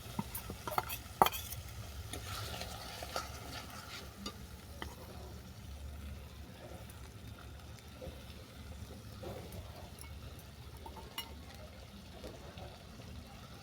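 Sesame paste and prawns cook in a pan, a faint low sizzle with occasional stirring clinks and scrapes, quiet and continuous, with some background noise.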